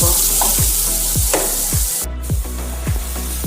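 Masala for Odia-style chole sizzles loudly in a close pan, with a spoon scraping through it in steady, rhythmic stirring strokes about every half second.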